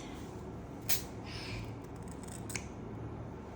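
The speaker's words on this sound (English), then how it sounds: "today I will cut it open with you guys so we see what's inside" Scissors snip into a crochet stress ball, two sharp close cuts about a second and a half apart over a quiet background.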